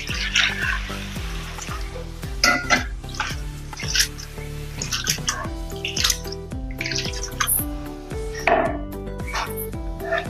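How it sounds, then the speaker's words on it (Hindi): Flattened rice (poha) is washed with water in a bowl, with sloshing, splashing and clinking against the bowl in irregular bursts, close and moderately loud, over a steady background tone. "तो जाड़ वाले मैंने पोहे लिए हैं, इसको हम 2 पानी से धो देंगे"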